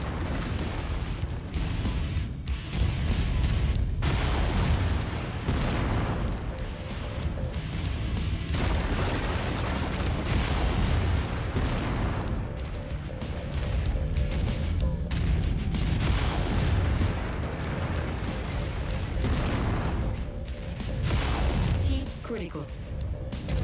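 Explosions in the mech combat video game MechWarrior 5: Mercenaries, heavy booms and crashing blasts coming repeatedly over a dense battle din, with someone talking at times.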